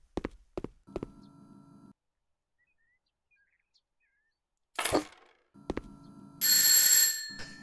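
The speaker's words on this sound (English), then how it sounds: "A fancy doorbell." Fancy electronic doorbell in the House Flipper video game, a sequence of bright chiming tones with short pauses between them, clear and close with no talk.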